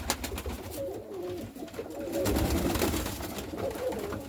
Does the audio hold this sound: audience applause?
no